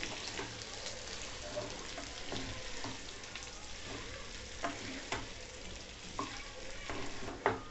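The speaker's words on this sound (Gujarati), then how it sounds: "હવે એની ઉપર આપણે ધાણા ભાજી નાખી દઈશું. હલાવી દઈએ." Coriander leaves being stirred into a dry potato bhaji sizzling in a pan, a continuous close crackle with intermittent spoon scrapes and taps against the pan and no talk.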